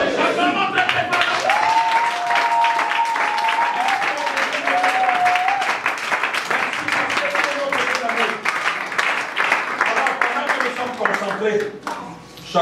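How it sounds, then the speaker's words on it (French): A church congregation in Montréal claps loudly and continuously, a dense wash of applause with voices singing and calling out underneath. The clapping fades slightly toward the end. "Acclamons très très fort."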